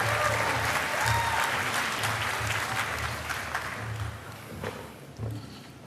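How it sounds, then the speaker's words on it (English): An audience at the Queen Salote PMA Lifetime Achievement Award 2019 applauds as the recipient is welcomed to the stage, sustained dense clapping from a large crowd that gradually thins toward the end, with low background hum underneath. "So, let's welcome him to the stage. Welcome, clap, oh my gosh."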